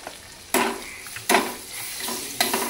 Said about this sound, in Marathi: हे मसाले सगळे तेलामध्ये मस्तपैकी असे भाजले की लगेच जास्त करपू द्यायचे नाही